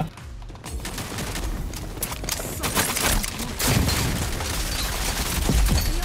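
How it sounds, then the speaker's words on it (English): Bot gunfire in the video game Rogue Company rattles on in dense, rapid bursts, loud and nearly continuous with heavy booming impacts throughout. "the YouTube bot keeps shooting"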